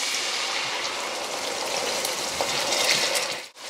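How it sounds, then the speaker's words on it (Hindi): Water poured into a pan of mixed vegetables, a steady rushing gush that swells briefly before stopping abruptly, close and loud. "हमने पानी शामिल कर लेना है,"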